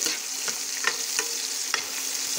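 Chopped taro stems frying with soybeans and chickpeas, a constant hiss of sizzling oil broken by sharp clicks and scrapes of stirring at irregular intervals, no talking.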